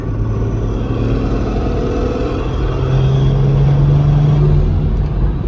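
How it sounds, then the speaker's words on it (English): A BMW 340i with a B58 engine, a stock motor at 190k, gives a loud, steady low engine drone that swells slightly partway through, with no voices. "that flutter, dude, from the turbo is insane"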